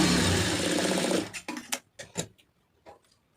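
A sewing machine stitches a blouse in a steady, close whir for about a second, then slows into a few separate mechanical clicks and ticks before falling quiet.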